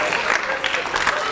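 Crowd applause for Veterans Memorial Middle School at a student literacy event, a brief continuous wash of clapping with voices blended into it.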